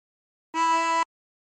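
One clean, steady note is blown into hole 5 of a 24-hole tremolo harmonica. It lasts about half a second and sounds close, with a reedy, harmonic-rich tone and no voice.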